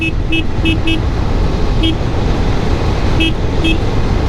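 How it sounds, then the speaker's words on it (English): Horn of a 2024 Indian FTR R Carbon motorcycle, sounded in several short separate beeps over steady engine and wind noise while riding. "below the indicator, you've got your horn"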